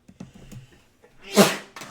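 A single person sneezes once, a short sharp burst about halfway through, preceded by faint breathy sounds and quiet voices nearby.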